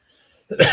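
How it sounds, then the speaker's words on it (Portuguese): A single short cough bursts out abruptly after near silence, close and fairly loud. "Nós dois estamos com tosse aqui."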